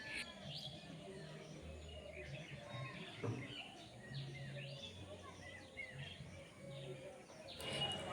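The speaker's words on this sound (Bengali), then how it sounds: "সবেমাত্র পাখিদের কলকাকলি শোনা যাচ্ছে" Birds chirp and coo at dawn before sunrise, faint scattered calls over a quiet outdoor background with distant low murmurs.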